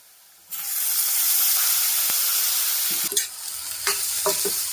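Chopped banana flower hits a hot pan of fried onion and erupts into a loud, steady sizzle that holds throughout, with a few clinks of stirring near the end.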